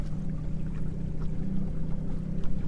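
A fishing boat idles on the water, its engine giving a low steady throb under faint lapping and splashing close by, with no talk.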